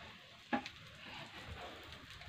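Potato fry with spices sizzles steadily in a pan, a soft continuous hiss with one brief sharp clink of a utensil near the start.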